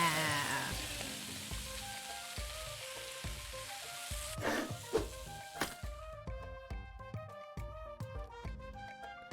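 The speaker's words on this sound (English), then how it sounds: "Fry him up." Fish sizzles in a frying pan in the cooking video game Venba, a loud, steady crackle that thins out partway as gentle plucked game music and soft stirring clicks take over.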